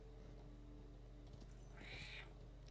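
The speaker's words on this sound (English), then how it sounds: "Hello, kitty." A cat meows once in the Lord of the Rings Online video game, a short mid-pitched call near the end, set against a steady low game ambience and music drone.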